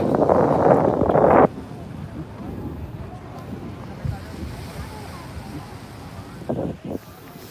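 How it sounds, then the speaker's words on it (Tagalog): Strong wind at the Manila Bay shoreline roars against the microphone in a loud burst for over a second, then settles into a softer steady rush with occasional gusts and faint wave wash, a voice talking briefly. "Dahil malakas yung hangin dito"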